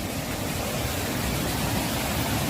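Steady broadband rush of river water flowing near Anthurium Falls in Famy, Laguna, swollen after recent days of rain; a continuous, fairly loud wash with no voices.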